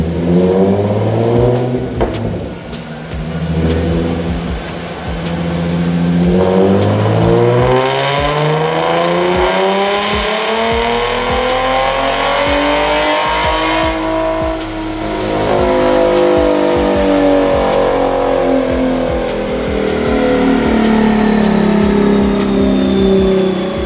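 A bone-stock V6 Ford Mustang is run on a dyno in third gear, its engine loud and close as it climbs in pitch through long revving sweeps, eases off briefly, then pulls hard again for the full stretch.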